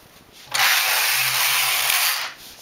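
A domestic knitting machine carriage sweeps across the needle bed, knitting rows of yarn for a double balaclava: one steady, close, rasping whoosh lasting nearly two seconds, with quiet before and after.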